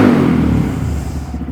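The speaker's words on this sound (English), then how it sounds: "It sounds like all local idiots who ride past my house on 125 with a loud exhaust." A Honda Grom motorcycle with a loud aftermarket exhaust gives a single brief, loud rev that fades quickly as the engine drops back, heard up close with no talking.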